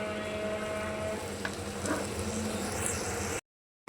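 Food sizzles steadily in a pot as it is sautéed during cooking, a continuous close crackle and hiss, then it cuts off abruptly into silence near the end.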